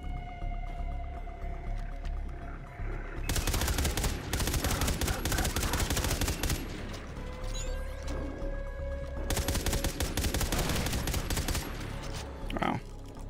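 Gunfire in Far Cry 3 Blood Dragon, heavy bursts of rapid automatic shots in two long volleys with loud blasts between, over a droning synth background and occasional talk.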